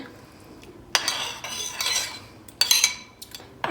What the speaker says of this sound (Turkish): Biraz şunun suyundan alıp şu terbiyeme ekleyeceğim.